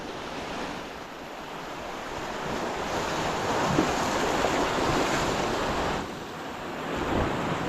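Sea waves crash and wash at the spot where a creek meets the sea, a steady, loud surf roar with wind buffeting the microphone and no talking.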